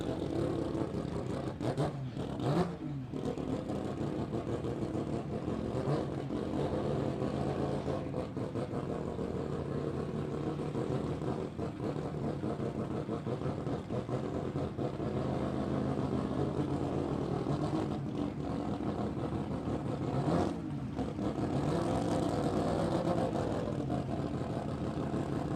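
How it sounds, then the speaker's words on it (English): A 3-rotor 20B rotary drag racing car in the water box doing a burnout at a drag strip, its engine a loud, sustained buzzing roar with brief dips, steady and close throughout. "We got Aaron Strong sitting back in the water about to start the burnout."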